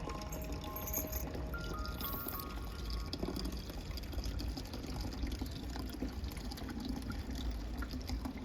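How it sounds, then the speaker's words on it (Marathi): Water pours and trickles steadily into a spray container being filled with one litre for spraying a mango tree, a faint continuous splashing that runs unbroken throughout. "टोटल 1 लिटर पाणी त्यामध्ये भरून घ्यायचं"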